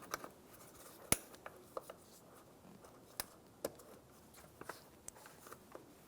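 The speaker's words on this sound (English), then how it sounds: "Once you hear a click" A MAF sensor electrical connector on a 2007-2017 Ford Expedition snaps into place, giving a few sharp, quiet plastic clicks scattered over faint background rustling.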